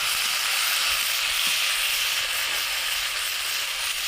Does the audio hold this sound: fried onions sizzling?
yes